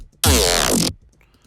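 A dubstep growl bass synth with no post-processing, heard as a single loud, wide, snarling tone of roughly seven tenths of a second with a wobbling texture, standing alone and close.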